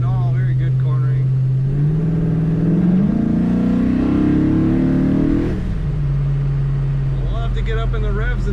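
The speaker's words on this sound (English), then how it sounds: "Love to get up in the revs in this car" A 1967 Chevrolet Chevelle SS with an LSX 376 engine revs up, its pitch climbing steadily for a few seconds before dropping back to a loud, close idle.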